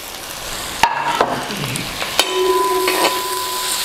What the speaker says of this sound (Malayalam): ഈ സവാള നമുക്ക് ഈ എണ്ണ ചൂടാകുമ്പോൾ എണ്ണയിലേക്ക് അങ്ങ് ഇട്ട് കൊടുക്കാം.